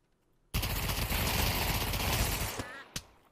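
Rapid automatic gunfire in CS:GO played in VR bursts in suddenly and loud, holds as a dense continuous stream for about two seconds, then trails off with a final sharp shot.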